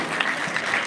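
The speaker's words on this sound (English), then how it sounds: "A smattering of applause." Scattered applause from a church congregation during an evening service, a brief burst of dense clapping lasting about a second.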